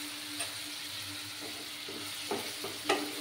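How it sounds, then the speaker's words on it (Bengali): Spice paste sizzles steadily in a hot pan as it is fried and stirred, a constant close hiss broken by a few soft scraping strokes. "দিয়ে মশলাটা ভালো করে কষিয়ে নিতে হবে, ভালোভাবে কষিয়ে নেব।"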